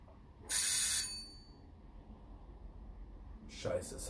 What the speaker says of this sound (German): es hat geklingelt.